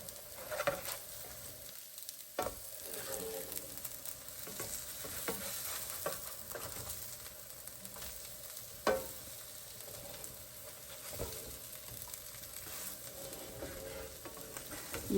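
Potato pancakes made from leftover mashed potatoes fry in a pan with a soft, continuous sizzle and patter. Occasional louder spatters and a few clicks of handling punctuate it, with no talking.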